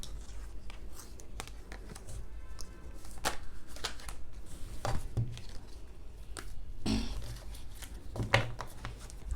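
Tarot cards being shuffled close by, a steady run of soft papery riffles and slaps with a few sharper snaps, no voices.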